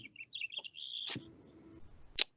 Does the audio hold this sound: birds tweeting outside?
yes